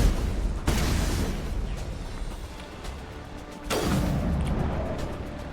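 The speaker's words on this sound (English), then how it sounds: "Who's still shooting?" Gunfire and booming impacts during a Mass Effect 1 combat encounter, two heavy blasts standing out over a steady rumbling battle din.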